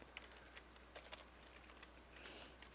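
Quiet, irregular keyboard clatter as Java code is typed on a computer keyboard, a run of close soft keystrokes in short bursts with no talking.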